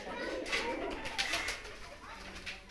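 Punjabi Malwai nasal pigeons cooing close by in a loft, soft repeated coos layered with scattered bird calls and faint voices in the background.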